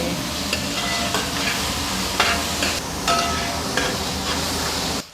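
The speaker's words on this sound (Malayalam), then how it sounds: "ഒരു മൂന്നെണ്ണം മൂന്ന് തക്കാളിയും കൂടെ ചേർക്കും" Tomatoes are added to onions frying for pork fry and stirred in a pan. A steady, fairly loud sizzle runs throughout, with occasional scraping stir strokes and no voices.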